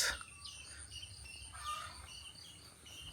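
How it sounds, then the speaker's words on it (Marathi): Chickens and other birds call faintly outdoors along a rural road in coastal Konkan, India, mixed with insect chirping over a steady background hiss. "कोंबड्यांचा आवाज पक्ष्यांचा आवाज"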